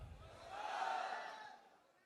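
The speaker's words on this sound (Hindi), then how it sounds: "सारी जोरदार तालियां बजाई आप सभी लोगों ने" An audience at a business seminar breaks into a brief, faint swell of applause and crowd noise that rises and fades within two seconds, heard from some distance.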